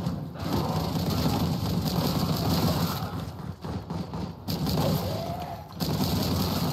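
Rapid weapon fire from the retro shooter Warhammer 40K Boltgun rattles in dense, continuous bursts over game music and mechanical clatter, with short breaks between volleys.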